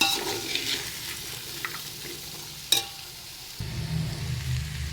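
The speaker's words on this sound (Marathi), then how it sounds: "आता आपल्याला चांगलं परतायचं" Spices with red chilli powder are stirred and sautéed in a pan for masale bhat, giving soft scraping and quiet sizzling, one sharp clink of the utensil against the pan midway, then a louder sizzle.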